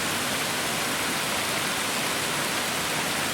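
Steady ambient rain sound effect, a dense even hiss of falling rain with no gaps or individual drops standing out, constant in level throughout.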